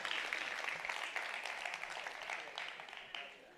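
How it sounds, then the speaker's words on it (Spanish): Applause from a conference audience at an inclusive education congress, a wide, continuous wash of many hands clapping at moderate distance, sustained evenly for a few seconds. "Un aplauso a las situaciones de aprendizaje."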